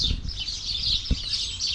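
Many birds chirp together at dusk in a garden in New Zealand, their bright, overlapping calls forming a dense, continuous chorus close by.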